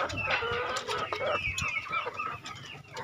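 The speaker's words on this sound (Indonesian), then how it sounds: "Ini dia ayam-ayamnya sudah pada besar-besar." Free-range village chickens cluck in a brief, busy burst of overlapping calls and squawks, moderately close and fairly quiet, with no talk over them.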